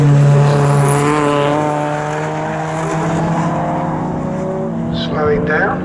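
A VW Golf race car engine at speed on the Snetterton circuit, a loud sustained drone with steady harmonics that sag slightly, heard close under continuous commentary.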